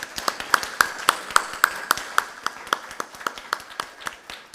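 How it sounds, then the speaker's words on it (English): An audience at a conference opening session gives a round of applause, heard as a fairly faint, rhythmic run of sharp individual claps spaced evenly, a few hands in unison. "we request all of you to kindly give them a round of applause"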